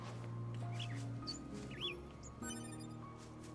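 A bird chirps faintly in a few short, quick whistled notes, heard in the distance behind a steady tonal background hum from video game audio.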